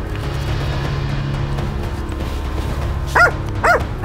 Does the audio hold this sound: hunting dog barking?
yes